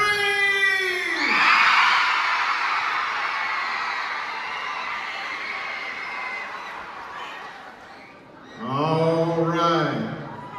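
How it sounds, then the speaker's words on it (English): A school crowd of students at a motivational event screams and cheers loudly for several seconds, the roar fading out before a voice shouts over the noise. "Now scream!"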